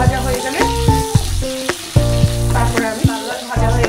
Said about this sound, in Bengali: এই একই তেলেতে আমি দিয়ে দিচ্ছি দুটো তেজপাতা ফোড়নে দিয়ে দিলাম। আর দিয়ে দিচ্ছি এই কুচনো পেঁয়াজটা।